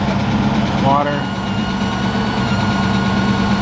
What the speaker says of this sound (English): Wow, she idles kind of lean.